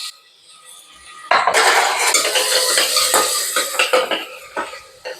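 Onions being fried and stirred in a pressure cooker for a Telangana-style mutton gravy, with a loud spoon or ladle scraping and clinking against the metal pot over a hissing sizzle.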